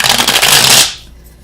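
A small tarot clarifying deck is shuffled up close, giving a loud burst of rapid riffling card flutter that stops abruptly and fades out.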